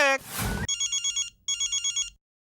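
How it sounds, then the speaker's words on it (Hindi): A voice speaks briefly, then an old-style telephone bell rings in two quick trilling bursts before falling silent. "अरे ये तो वही पोपटलाल वाला फोन है।"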